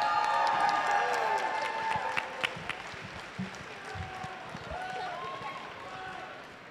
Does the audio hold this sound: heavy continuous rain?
no